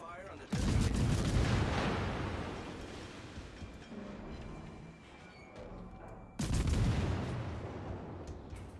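Naval guns in the World of Warships video game fire two heavy salvos several seconds apart, each a loud booming blast that trails off into a long rumbling decay.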